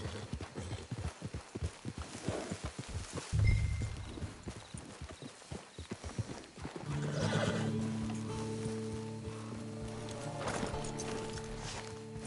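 Horse hooves clip-clop in a quick rhythm, followed by a loud neigh and whinny, in the video game Red Dead Redemption 2, with a faint background score underneath.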